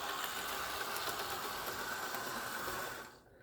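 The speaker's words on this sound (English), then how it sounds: "So first is that AHM engine, and it runs pretty good, nice and smooth." Antique AHM model train engine running steadily on a test track, a smooth continuous motor whir and rail hum at close range that fades away near the end.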